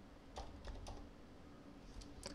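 Quiet typing on a computer keyboard: a handful of sharp, separate key clicks in two short bursts over a faint background hum.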